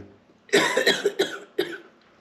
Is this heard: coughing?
yes